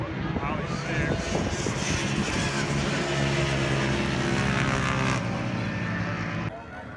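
Small vintage two-stroke racing motorcycles in the Formula 125 class, such as RD200s, TA 125s and F7s, race at Roebling Road in Georgia, their engines blaring loud and high-pitched and continuous before dropping away near the end.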